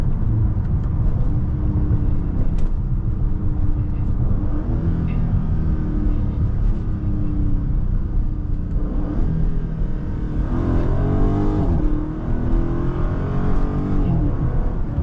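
A crashed Dodge Challenger Scat Pack Last Call drives along with a deep, rumbling engine drone that swells in a few revving pushes, heard loud from inside the car with no one speaking.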